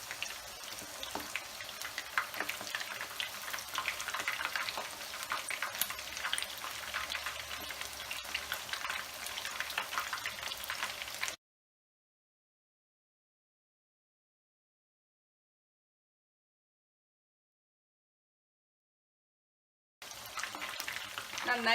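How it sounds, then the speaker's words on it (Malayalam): Chicken pieces fry in hot oil with a steady, dense crackle and sizzle, interrupted by several seconds of silence before the sizzling resumes. "ചിക്കൻ്റെ എല്ലാ വശം നന്നായി ഫ്രൈ ആയി വരണം."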